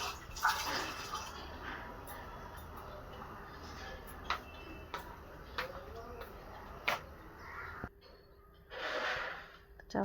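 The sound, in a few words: washing rice in water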